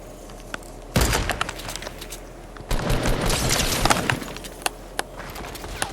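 Gunfire in a Fortnite match: rapid bursts of shots and sharp cracks arrive in two loud volleys, with scattered single sniper-like reports and impacts between and after them.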